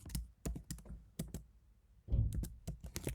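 Python code being typed on a computer keyboard: close, quick bursts of clicking keystrokes, with short pauses and a heavier thump near the middle.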